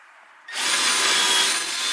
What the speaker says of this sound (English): Look where I'm drilling.